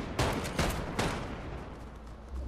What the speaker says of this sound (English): Shots to our right.